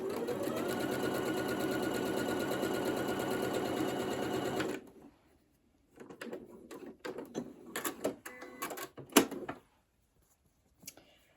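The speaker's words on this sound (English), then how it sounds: "And when I stitch, I'm just going to follow along my previous row of stitching with the guide bar" A Janome Memory Craft 8200 QCP sewing machine stitches a straight quilting row steadily for several seconds, then stops, followed by scattered clicks and clacks of handling the machine, close up.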